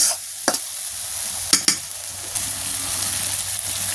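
Spice paste for duck curry is stir-fried in a pan, with a steady sizzle and a few sharp scrapes of the spoon against the pan.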